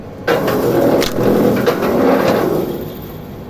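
The engine of a rail-type log splitter runs at steady revs with a broad mechanical drone, and faint knocks and clunks ride on top before it eases slightly toward the end.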